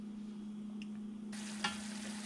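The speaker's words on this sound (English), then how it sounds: "at this point most of the water is starting to get evaporated and so it's gonna start frying or dorando en el aceite" Beef pieces frying in oil as the remaining cooking water evaporates for bistec ranchero, a quiet steady sizzle with a faint hum underneath, turning brighter and more crackly partway through, with a single small clink.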